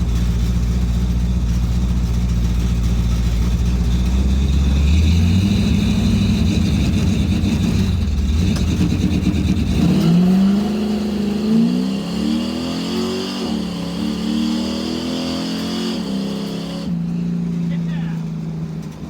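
A Chevy Nova drag car with a rebuilt TH400 transmission and a transbrake, its engine revving hard and held, then launching with a sweeping rise in pitch. The engine drones loud and close throughout.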